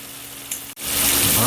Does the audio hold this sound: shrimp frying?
yes